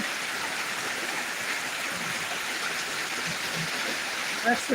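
Heavy monsoon downpour in Dinajpur, a dense steady roar of rain hammering surfaces and running water, constant throughout with a small clatter near the end.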